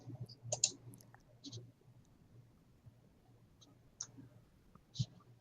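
Faint, sharp left clicks of a computer mouse, a few scattered taps spaced irregularly across several seconds in a quiet room with soft background murmur.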